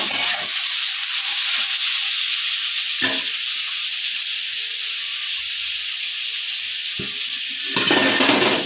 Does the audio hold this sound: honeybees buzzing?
no